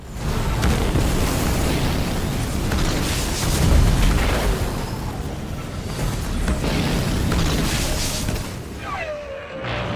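An enemy building collapses in the strategy video game Halo Wars 2: dense, loud rumbling explosions and booming debris roll continuously over several seconds, with a short radio-style blip near the end.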